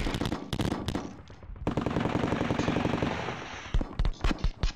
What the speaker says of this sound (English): Now shoot at the guns that I pushed back.